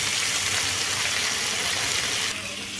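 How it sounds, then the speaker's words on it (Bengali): Crab and potato pieces sautéing with spices in hot oil give a loud, steady sizzle throughout, easing slightly near the end. "সব কিছু মশলা আমি এই কাঁকড়া আলুর সঙ্গে কষিয়ে নেব।"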